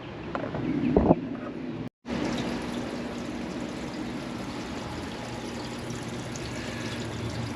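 Water pouring out of a hot tub spa that has no drain valves, a steady rushing trickle after a brief thump and short dropout near the start.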